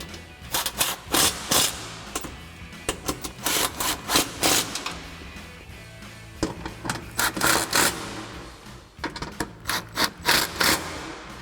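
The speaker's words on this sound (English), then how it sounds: "Now you can grab a impact with a 13mm socket, and we're going to tighten these down." Impact wrench fitted with a 13mm socket tightening the mounting bolts of Barricade oval bent-end side step bars on a 2022-2023 Toyota Tundra, heard as repeated short hammering bursts in several groups, fairly close and with no talk.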